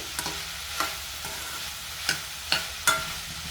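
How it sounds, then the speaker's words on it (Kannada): Fried okra stirred in a pan with a spoon, a soft steady sizzle broken by several sharp scraping clinks of the spoon against the pan, close by and with no talking. "ಒಂದು ಸ್ಪೂನಿನ ಸಹಾಯದಿಂದ ಚೆನ್ನಾಗಿ ಮಿಕ್ಸ್ ಮಾಡ್ಕೊಳ್ಳಿ"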